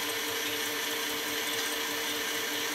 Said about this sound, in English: these are the egg whites we're whipping up